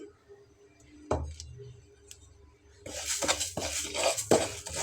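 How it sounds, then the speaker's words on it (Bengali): Flaxseeds dry-roast in a hot, dry frying pan. After a quiet start and a single clank, a dense rattling crackle of seeds begins, broken by several sharp scrapes and knocks of the stirring utensil. "একদম শুকনো খোলায় এটাকে ভেজে নিতে হবে মুচমুচে করে"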